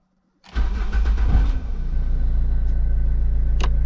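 An Opel Astra G engine cranks and catches after a front left wheel hub replacement, firing up abruptly from silence and settling straight into a steady, close idle.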